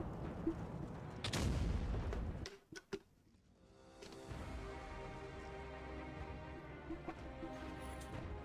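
In World of Tanks Blitz, a tank gun fires with a heavy boom, and several sharp bangs and thumps follow amid rumbling battle noise. A short lull comes before the steady in-game din returns.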